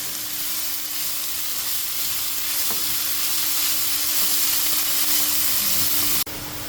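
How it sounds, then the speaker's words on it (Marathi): Onions sauté in a pan for Goan prawn balchao, giving a steady, close sizzling hiss that holds evenly, then drops off abruptly near the end; no voices. "कांदो बरो सोते करून घेवया."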